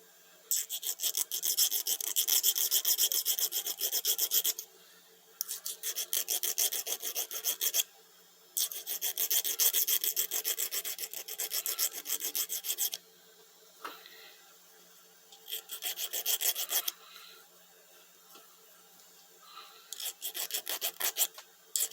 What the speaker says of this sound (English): Just going to remove the burr on the end.